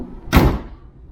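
A Vauxhall Insignia VXR door is shut once with a single solid thud, close and loud, the broadband thump fading quickly into a short quiet tail.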